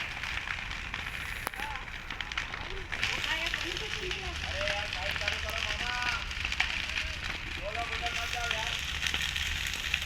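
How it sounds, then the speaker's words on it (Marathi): A crackling, roaring blaze near a company building fills the clip, with snapping pops throughout and a voice speaking intermittently underneath. "बघा किती भयानक आग लागली"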